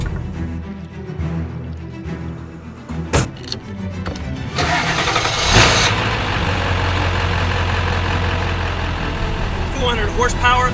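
A 7.3 Powerstroke diesel truck engine fitted with a new turbo runs loud and steady, with a brief burst of revving before it settles into a sustained roar; people talk briefly over it early on.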